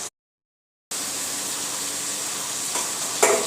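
Garlic paste and spices sizzle and fry in a pan after a brief silent gap, a steady close hiss with a couple of stirring scrapes near the end.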